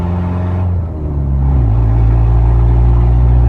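Fox Body Ford Mustang engine while driving, a loud, steady low rumble with a slight dip and rise in pitch as the car moves, heard alone without talk.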